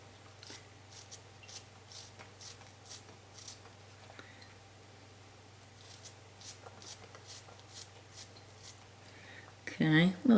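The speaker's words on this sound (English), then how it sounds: "we're going to cut onion up" A knife chopping an onion on a cutting board, a series of soft, regular thuds and slicing scrapes up close, followed by a louder rustle at the end, with people talking over it.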